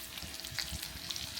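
Strips of bacon fry in a pan in a home kitchen, giving a steady close crackle and sizzle with small pops scattered throughout.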